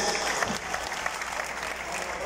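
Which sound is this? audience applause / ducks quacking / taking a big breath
audience applause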